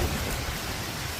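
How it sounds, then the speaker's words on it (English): Steady, dense rain falls on a city street at night in New York City, a continuous hiss of drops hitting pavement, close and fairly loud, with no voices. "It's raining, raining, raining."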